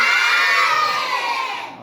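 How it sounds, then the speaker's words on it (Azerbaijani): A second-grade class of children at a school word competition bursts into loud, sustained cheering and applause, a dense crowd of young voices and claps that holds steady before easing off at the end. "Bir də sinifimizi alqışlayırıq uşaqlar"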